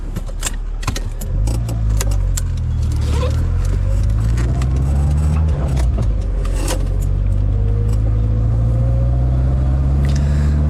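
A 1989 VW Golf 1 Cabriolet with a 1.6 engine cranks and catches after a brief key jangle, then idles with a steady low rumble and pulls away, engine note rising and shifting as it drives off, close and loud.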